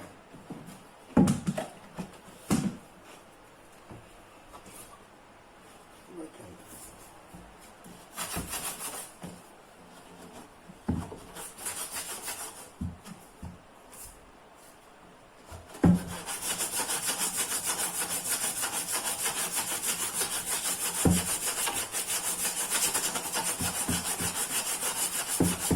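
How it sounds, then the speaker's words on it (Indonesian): A cracked plastic water bucket is sanded with sandpaper: scattered, separate scraping strokes at first, then a dense, unbroken rasping that runs steadily to the end, close and alone. "Kita amplas dulu."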